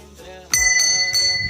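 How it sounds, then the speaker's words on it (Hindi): A temple bell at a Shiva temple is struck near the mic, giving a bright metallic clang with long ringing overtones, then struck again twice more in steady succession, each hit decaying under the next. "घंटी"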